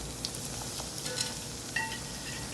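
Bolinho de São João dough balls fry in hot oil with a quiet, steady sizzle and a few faint clinks and pops.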